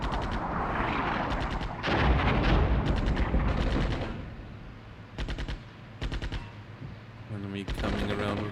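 Artillery and machine-gun fire in Armored Brigade 2, a Cold War battle of Soviet armor pushing into Finland: dense, loud rolling bursts of shots and booms, pausing briefly then resuming in clustered volleys.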